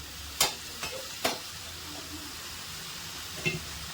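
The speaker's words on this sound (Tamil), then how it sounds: "அதை அப்படியே போட்டு மிக்ஸ் பண்ணி ஒரு அஞ்சு நிமிஷம் நல்லா மிக்ஸ் பண்ணிடுங்க" Chicken masala sizzles quietly in a pan, with a few sharp scraping clicks of a utensil stirring; no talking.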